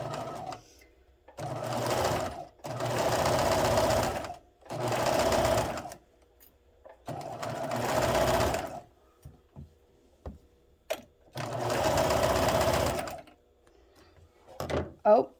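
A sewing machine stitching binding along a drawn line, running in five loud whirring bursts of a second or two each, with short pauses and small clicks between them.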